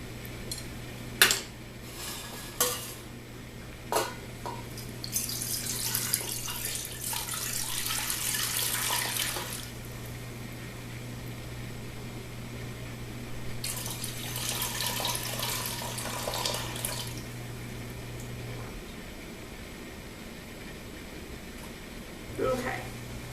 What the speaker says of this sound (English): So you've poured off 4 cups into the pot.